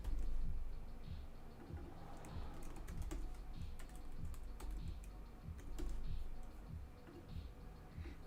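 Typing on a computer keyboard: a fast, uneven run of close clicking keystrokes that continues steadily over soft background noise.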